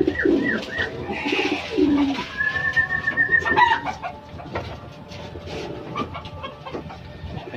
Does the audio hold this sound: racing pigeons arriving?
yes